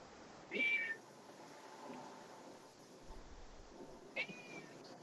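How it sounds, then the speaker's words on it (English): A house cat meows twice in the background, a short call near the start and another toward the end, faint against a quiet room with low ambient noise and no speech. "Is that your cat, Gil?"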